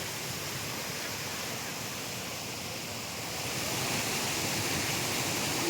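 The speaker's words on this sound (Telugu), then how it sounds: "జలపాతము" A village waterfall roars in a steady, even wash of noise, growing slightly louder toward the end, with no voices.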